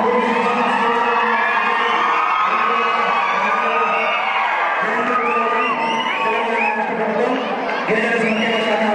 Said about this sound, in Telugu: మనందరూ కూడా ఒక్కసారి చప్పట్లతో వారికి ఘన స్వాగతం